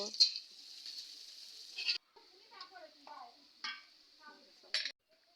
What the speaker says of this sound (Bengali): পেঁয়াজগুলো ভালোভাবে নেড়ে চেড়ে নেব